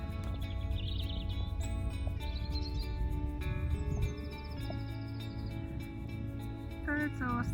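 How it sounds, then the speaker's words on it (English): Birds chirp and tweet in repeated short bursts along the Llangollen canal, moderately distant, over a steady low hum of a narrowboat engine and background murmur. "Birds all singing again"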